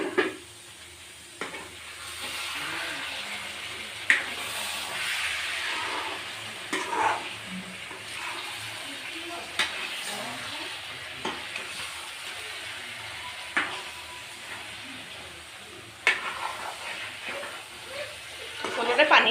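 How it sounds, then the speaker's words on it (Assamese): Chicken meat cooked without masala simmering in a pot, with a soft continuous sizzle and hiss broken by sharp scrapes and knocks as it is stirred. "মাংসটো এবাৰ লৰাই দিওঁ"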